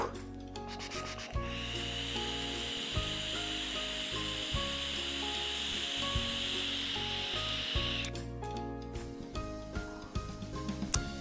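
Sustained airy hiss of vapor being drawn through an Eleaf iStick Pico box mod running at 40 watts with the airflow wide open, a steady breathy rush lasting several seconds between faint clicks and handling noises, close and fairly loud.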